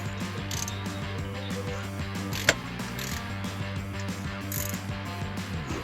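A ratchet snugs the bolts of a billet valve body on a Ram 68RFE transmission with steady close clicking strokes and one sharper metallic tap partway through.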